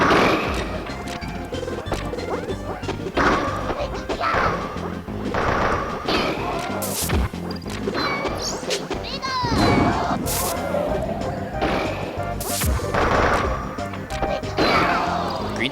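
Forward smash hits land in a Super Smash Bros doubles grand final, including Pikachu's: sharp, loud whacks and crashes recurring amid busy game effects, under continuous commentary.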